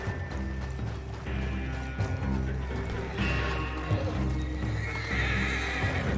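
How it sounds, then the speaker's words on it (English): Horses from a coach in Red Dead Redemption 2 neigh and whinny over steady clip-clopping hooves, close and loud, with mechanical rattling and game background sound throughout. "We can take the horses from that coach."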